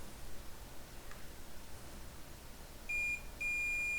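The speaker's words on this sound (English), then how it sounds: "my multimeter actually beeps when I have a short to ground" Continuity beep from a multimeter while probing an iPhone or iPad logic board near the PMIC for a short to ground: a steady tone sounds, cuts out briefly, then resumes, over faint hiss.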